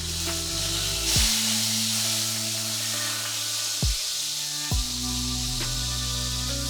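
A filet steak sears in a hot pan after being flipped, a steady close sizzle and hiss running under layered background music that shifts pitch several times.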